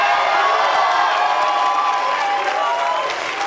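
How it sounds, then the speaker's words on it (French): An audience at a 2020 high-school eloquence contest in Montreuil applauds and cheers the student speakers, producing a dense, steady wash of clapping with whoops and shouts that holds loud for the whole stretch and eases slightly at the end. "Et enfin, celle qui fermait le bal, vous pouvez applaudir Emma Vigneron,"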